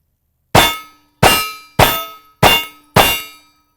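Five loud, evenly spaced shots from a Rost Martin handgun, each ringing as a sharp metallic clang off steel targets, fired while moving and separated by brief silence.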